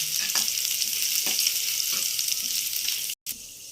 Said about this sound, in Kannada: ಎಣ್ಣೆ ಕಾಯ್ದ್ಮೇಲೆ ಕ್ರಷ್ ಮಾಡಿರೋ ಬೆಳ್ಳುಳ್ಳಿ ಹಾಕೋಣ. ಸ್ವಲ್ಪ ಫ್ರೈ ಮಾಡ್ಕೊಳ್ಳೋಣ.